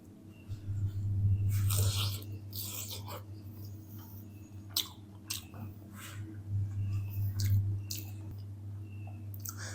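Someone bites and chews a crispy snack of leftover roti and potato, with repeated crunchy bites and chewing noises over a low steady hum, close and fairly quiet.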